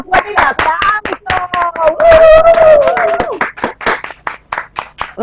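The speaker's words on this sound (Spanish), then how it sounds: "¡Fuerte el aplauso!" Studio audience on a television show clapping in quick, uneven rhythmic claps that go on steadily, with cheerful voices calling out over them partway through.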